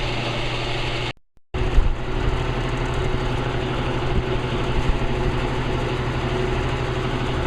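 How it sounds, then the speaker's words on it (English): A Bryant heat pump with worn bearings runs with a steady droning hum and rattly vibration, briefly dropping out for a moment before continuing loud and constant. "Bearings sound old, but still runs."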